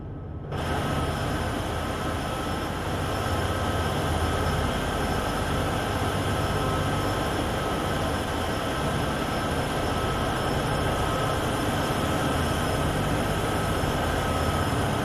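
Three coal-train locomotives from the Train Sim World 2 game rumble steadily near Cheyenne Yard on Sherman Hill, a continuous loud diesel drone with a sustained hum. It starts abruptly after a brief silence and runs unbroken, with no talking.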